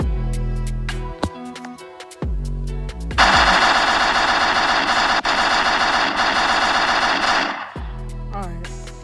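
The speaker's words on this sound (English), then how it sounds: "Blow your bullets out that gun." Rapid automatic gunfire rattles loudly and continuously for several seconds in the Roblox game ERLC, framed by game tones and chimes before and after the burst.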